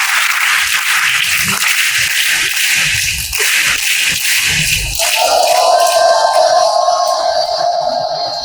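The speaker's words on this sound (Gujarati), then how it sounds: "આપણે મહારાજા તાળીથી આવકારીએ" An audience at a stage ceremony claps to welcome a guest, giving a steady, loud wash of applause that rolls on without a break.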